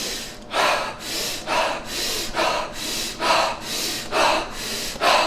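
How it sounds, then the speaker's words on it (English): Quick diaphragmatic breath work, a steady run of about nine forceful breaths in and out at an even rhythm, close and fairly loud with no talking. "But that breathing from the diaphragm."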